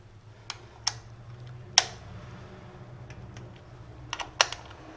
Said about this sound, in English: it clicks when you're at the right torque